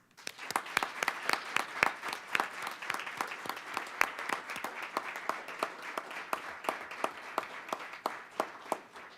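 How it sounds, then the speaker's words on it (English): Audience applause at a school district board meeting, a modest group clapping in distinct, fairly regular claps that stay moderately loud and even throughout. "Let's give her some applause."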